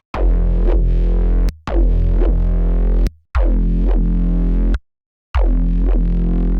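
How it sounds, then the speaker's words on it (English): Synthesizer notes run through a band reject filter with moving width and cutoff, then distortion; four loud sustained harmonic bursts with sweeping filter movement, separated by short silences, no talking. "let's go with a band reject filter at the end as well"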